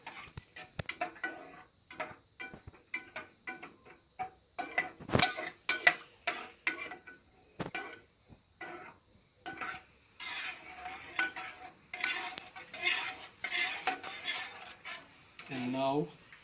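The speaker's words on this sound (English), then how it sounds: "Keep stirring it" Rhythmic scraping and clinking of a spoon in a pan as a homemade French sauce with basil and bay leaves is stirred, repeated close strokes with a voice speaking in places.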